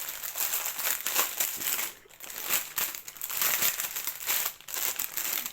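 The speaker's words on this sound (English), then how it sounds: "Comes in a plastic bag." A plastic bag for cross stitch supplies crackles and crinkles almost continuously, close up, with brief pauses as it is handled and squeezed.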